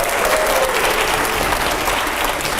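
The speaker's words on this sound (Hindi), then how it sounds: "जोरदार तालियां हो पहले।" A TV studio audience at a televised political debate with Asaduddin Owaisi breaks into steady, enthusiastic applause, a continuous dense wash of clapping.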